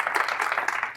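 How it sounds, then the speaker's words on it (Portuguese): A church congregation claps during a leaders' and workers' training session, a brief patter of scattered hands clapping close by, uneven and light. "Pode dar uma salva de palmas, vai?"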